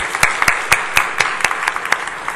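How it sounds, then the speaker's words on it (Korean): A Korean church congregation claps during a Sunday service blessing, with a dense wash of applause and distinct individual claps standing out in an uneven rhythm, fairly loud and close. "다시 한번 우리 큰 박수로 한번 축복해 주시겠어요?"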